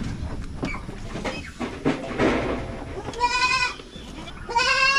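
Farm goats bleat in several short, wavering calls amid rustling and shuffling of livestock nearby, fairly close and moderately loud.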